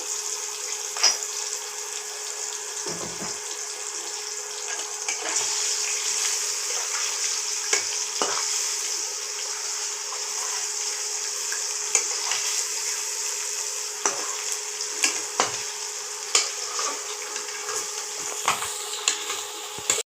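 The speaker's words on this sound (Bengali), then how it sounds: "সামান্য নুন আর একটু হলুদ দিয়ে আলুটা একটু ভেজে নিই বন্ধুরা" Potatoes seasoned with salt and turmeric frying in oil, a steady bright sizzle running throughout with repeated scraping and stirring clicks from a spatula, close and fairly loud, with no voices.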